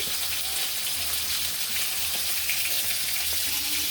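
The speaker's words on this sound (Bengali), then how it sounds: "এখানে আমি হাঁড়িটা বসিয়ে দিয়েছি দিয়ে দিব তেল" Cooking oil poured into a pot set on the stove for a mutton curry, a steady, fairly loud hissing pour that continues unbroken throughout.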